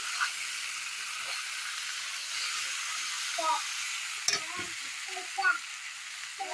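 Jackfruit flower (musi) frying in a pan with garam masala and cumin, a continuous close sizzle with occasional stirring scrapes and a few short spoken words.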